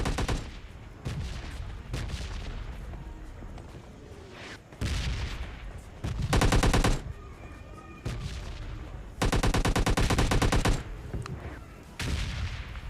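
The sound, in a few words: M249 machine gun firing in video game PUBG Lite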